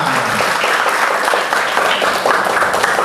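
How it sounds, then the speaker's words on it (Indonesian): Audience applause at a Gregorian choir performance, loud continuous clapping from a crowd that holds steady throughout. "Kita kasih aplaus untuk peserta dari rumah."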